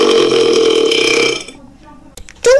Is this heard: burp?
yes